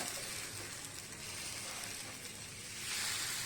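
Crepe batter spread across a hot, oiled tawa gives a soft, continuous hissing sizzle, faint and even, swelling slightly toward the end.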